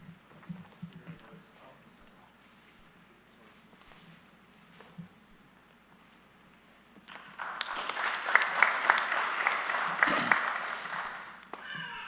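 Crowd applause for a graduating police academy class at a graduation ceremony, rising suddenly after a quiet stretch of faint murmur and scattered sounds, then continuing as steady, moderately loud clapping before tapering slightly at the end.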